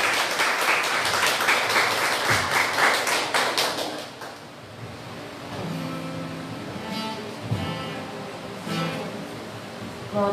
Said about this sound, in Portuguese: Vamos aplaudir o nosso Rei bem forte